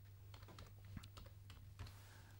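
Quiet, steady typing on a computer keyboard in an office, with rapid light key clicks and a few firmer taps over low background hum.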